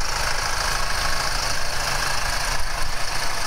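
A tractor pulling a sleigh-ride wagon at a Christmas farmstead idles with a steady, rumbling drone that stays even and fairly loud throughout, with no talk over it.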